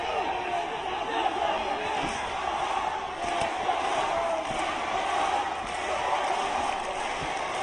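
A kickboxing arena crowd roars in support of fighter Yoshihiro Sato during his bout with Giorgio Petrosyan. The dense crowd noise holds steady throughout, with shouts and cheers mixed into the rumble.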